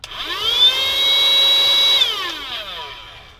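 A 12V camper vacuum cleaner motor spins up, holds a loud steady high whine, then winds down with falling pitch, alone and close.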